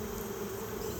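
Honey bee swarm buzzing steadily and densely throughout, a continuous close hum with no pauses and no voices.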